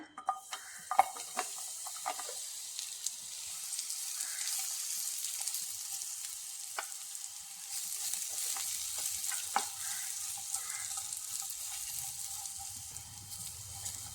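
Chopped dates sauté in ghee in a pan with a soft, continuous sizzle, punctuated by occasional light scrapes and taps of a stirring spoon, fairly quiet throughout.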